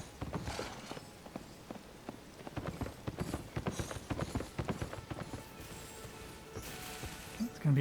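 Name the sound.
horse hooves of approaching rider in video game Elden Ring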